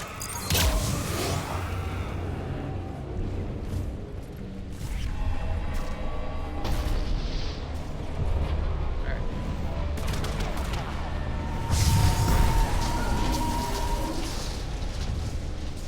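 Explosions and gunfire in the Mass Effect 3 video game, with dense bursts of shots and heavy booms rolling continuously at a loud level, peaking near the start and again toward the end, with some speech mixed in.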